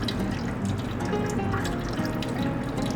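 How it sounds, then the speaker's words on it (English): Old transmission fluid drains from the drain hole of a cheap used car, spattering against a small paper envelope used as a splash guard; a steady close trickling and dripping stream runs without pause and without talking. "I used a small envelope as a splash guard as the hole drained far out the side."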